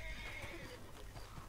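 A horse in the video game Red Dead Redemption Online gives a faint, quavering neigh over steady low background noise, with soft hoof-like thuds underneath.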